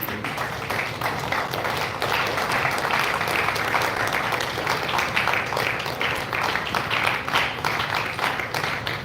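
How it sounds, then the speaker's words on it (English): A large audience claps steadily through a school of management event as a guest is welcomed to the podium, a dense, even roar of many hands that holds at full strength throughout. "A huge round of applause,"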